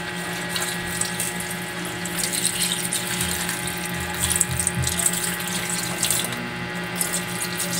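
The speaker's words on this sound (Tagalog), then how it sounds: "Tsaka natin lagyan ngayon ng tubig yan." Water runs steadily into a cooking pot holding sinaing na tulingan seasoned with salt and Ajinomoto, a continuous close splashing and gurgling stream that lasts throughout.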